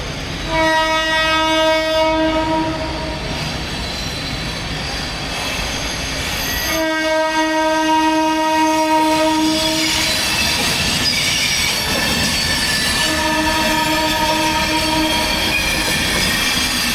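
The Ala Hazrat Express pulls into a station in Jaipur, India, loud and close, its horn blaring in long repeated blasts over rumbling wheels and squealing rails.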